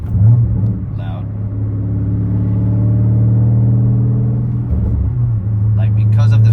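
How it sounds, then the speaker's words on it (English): A 2013 BMW 550i with H-pipe and catless downpipes, its engine droning in a steady low rumble while cruising, rising slightly then easing off, heard from inside the car. "just sound like it was straight piped and doing all the burbles"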